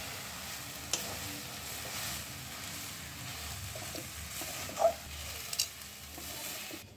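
A prawn and soya kofta mixture with flour is stirred in a pan, making a faint, low sizzle. A few soft knocks of the spoon come through, and one scrape is sharper than the rest.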